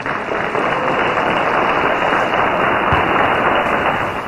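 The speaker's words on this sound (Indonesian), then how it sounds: "Tepuk tangan buat gunung berapi." Dense, continuous audience applause during a stage talk, a broad, muffled wash of many hands clapping at a steady loudness from start to finish with no voices standing out.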